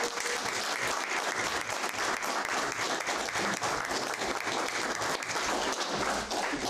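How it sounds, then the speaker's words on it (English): An audience at an AIAA-SF talk at Hacker Dojo gives a round of applause: dense, steady clapping from many hands that fills the room at an even loudness for several seconds, with no speech over it. "Round of applause."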